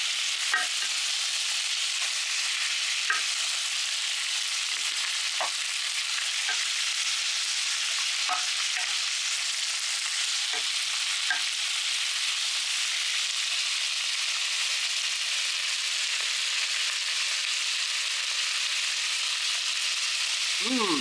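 Carbonade flamande sizzling steadily in a pan while being stirred, a continuous bright frying hiss with faint scrapes and taps of the spoon throughout, close and unbroken.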